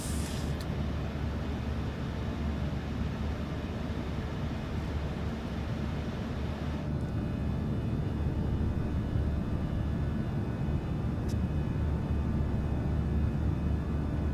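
A PMDG Boeing 737-800 in Microsoft Flight Simulator 2024 climbs out after takeoff, its engines producing a constant, loud, broadband roar and low rumble with only small shifts in tone and no speech.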